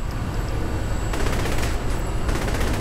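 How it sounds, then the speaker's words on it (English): Gunfire erupts at a building in the Saints Row The Third video game, a dense, rapid fusillade of shots that grows thicker partway through, heard over a steady noisy background. "Prepare to open fire on the building."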